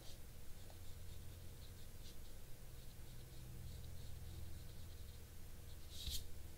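Faint, steady scratching of a pencil drawing lines on paper for a water tower sketch, a soft continuous rasp with a few light taps near the end.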